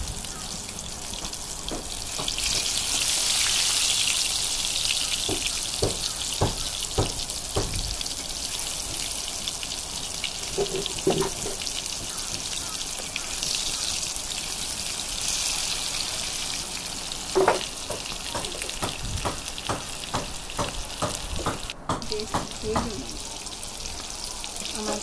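Mustard-paste-stuffed ash gourd pieces fry in hot oil in a wok. The oil gives a continuous close sizzle with scattered sharp pops and crackles throughout, and no one speaks over it.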